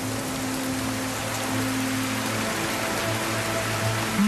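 Steady, dense rain from a thunderstorm hisses evenly throughout, with a constant wash of drops and no distinct thunder claps.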